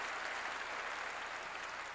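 A church congregation claps to glorify God during a sermon, producing a brief, continuous wash of crowd applause at moderate level that does not let up and has no voices over it.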